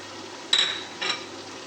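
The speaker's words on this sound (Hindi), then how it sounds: "अब जाएगा इसमें जिंजर गार्लिक का पेस्ट।" Ginger garlic paste dropped into a pan of onions frying in oil, giving two short sizzling hisses over a steady low frying crackle, close by and with no talking.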